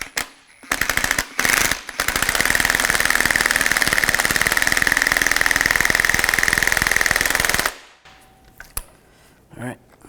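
An impact wrench rattles loudly in a long rapid burst, tightening a strut nut on a 2005–2010 Chevy Cobalt front strut, with short bursts before it and quieter clinking afterward.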